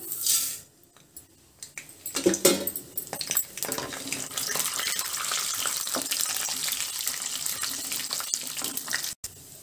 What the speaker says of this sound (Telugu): ఆయిల్ హీట్ ఎక్కిందండి ఇప్పుడు తాలింపు గింజలు వేసుకుందాము